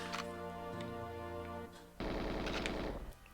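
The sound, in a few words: gunfire in the video game GoldenEye 007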